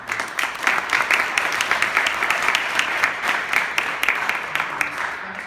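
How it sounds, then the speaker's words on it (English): Audience applause closing a technical talk at a #SUPTalks event, dense steady clapping from a crowd that holds evenly for the whole stretch without voices. "I think we need to give a round of applause for thanks"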